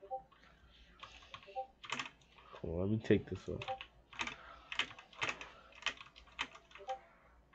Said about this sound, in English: I know y'all hear my keyboard.